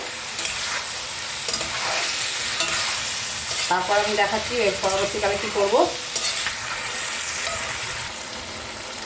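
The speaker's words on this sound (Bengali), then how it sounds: "এটাকে আমি একটু ভালো করে ভাজা ভাজা করে নেবো" Chicken for Mughlai chicken frying and being stirred in a pan, a steady close sizzle with repeated scraping stirs throughout and a brief voice partway through.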